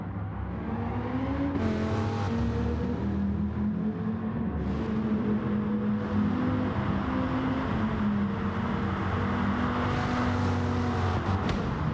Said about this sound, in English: Drag race down the straight, side by side.